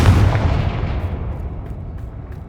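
A Confringo fire spell in the game Hogwarts Legacy explodes with a loud, deep boom that rolls off into a long, fading rumble over about two and a half seconds, with no talking.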